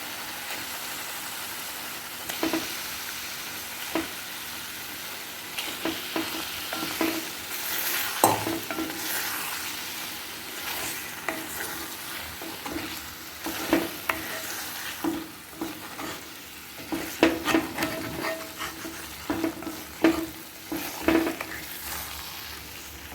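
Egg masala sizzles steadily in oil in a pan over a low gas flame, with eggs added to the sautéed masala; a spoon scrapes and stirs through it in irregular bursts, close and fairly loud, with no talking.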